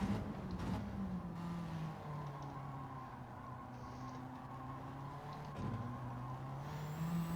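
A Honda Civic accelerates around the Tsukuba circuit in Gran Turismo 7, a steady engine drone that climbs in pitch through the gears with a brief shift dip, faint and continuous.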